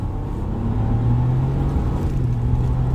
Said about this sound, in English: Fantastic accelerations. That was to the floor, up to almost 60 miles per hour.